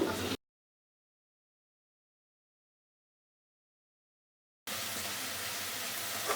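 Spice paste of cumin, Kashmiri chili and turmeric with a splash of water frying in oil for a fish curry, a steady close hissing sizzle broken by a long silent gap.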